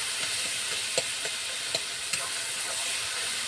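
Vegetables with fried bori, onion and garlic are stirred slowly in a pan, producing a steady, moderate sizzle punctuated by several distinct clicks and scrapes of the spatula.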